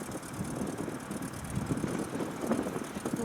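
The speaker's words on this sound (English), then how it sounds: "back to this little grey fergie again, and it sounds a little bit throaty" A little grey Ferguson tractor engine runs steadily at close range, a throaty, rumbling idle with gusty wind buffeting the microphone throughout.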